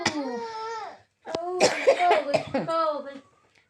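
A woman coughs while vlogging over samosas and tea, with one sharp cough burst set between stretches of her voice and laughter-like vocalizing, close to the microphone.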